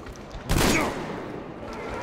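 A sudden loud burst of gunfire in Metro Exodus hits hard, then trails off into a fading rumble of echo.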